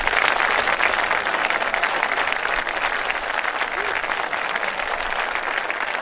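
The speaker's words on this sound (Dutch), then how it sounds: "En ook een heel groot applaus geven aan de korpsen vanavond." A large crowd applauds steadily for the marching bands at the Taptoe Tiel 2017 tattoo finale, a dense, even wash of clapping that holds for several seconds with no break.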